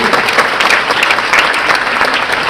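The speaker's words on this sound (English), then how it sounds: "Why don't we give them a clap as they come in?" Steady applause from a large crowd, dense and continuous clapping at a loud, even level throughout.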